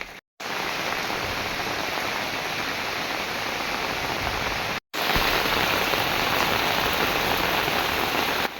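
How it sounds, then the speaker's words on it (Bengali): Loud, steady heavy rain pouring down continuously in Bangladesh, a dense roar of water with two very brief dropouts. "বৃষ্টির পানি"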